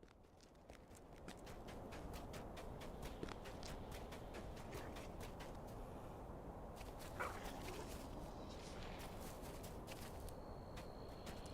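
Dog barking and whimpering in a fantasy online game, with sharp barks over a steady, dense ambient background and footstep-like clopping throughout.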